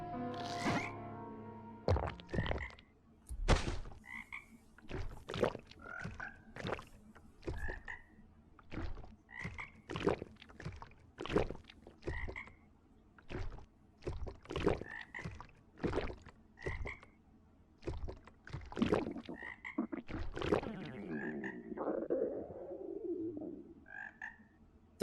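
Frog croaking from the video game Mind Her Manor: a run of sharp, repeated croaks with short gaps, fairly close and clear, alongside faint chirpy tones and a quieter bubbling stretch near the end.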